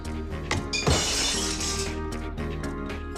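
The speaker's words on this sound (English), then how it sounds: "Doesn't take long for the sound of breaking glass to smash out." Glass breaking as a sound effect on a TV show: a loud crashing shatter followed by a long spray of tinkling, clinking shards, heard alone with no voices.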